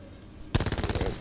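Rapid automatic gunfire bursts out suddenly in a video game shooter, a dense rattling stream of shots lasting under a second, loud and close.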